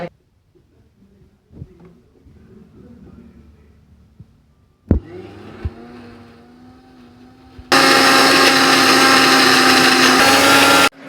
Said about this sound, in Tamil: பாருங்க, வணக்கி வச்சுருக்கிற மசாலாவை போட்டு அரைச்சி ஊற்றலான்ட்டு போடுறேங்க